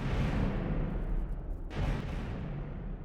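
Missiles fired at a battleship in StarMade strike with a deep, continuous rumbling barrage, and a fresh heavy blast bursts in near the middle over a steady roar of explosions, with no voices.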